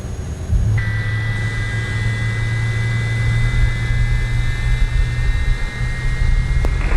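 Cargo airliner taking off in Microsoft Flight Simulator, a loud steady jet engine roar with a high whine that rises in pitch and holds, no talk.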